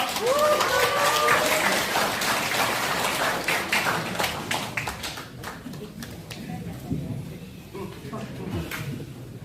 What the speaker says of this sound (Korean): 위원님, 여러분 큰 박수 부탁드립니다.